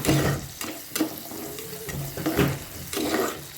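Crushed ginger and garlic sizzle in a frying pan for an egg dish while a spoon stirs through them in repeated scraping strokes, steady and close.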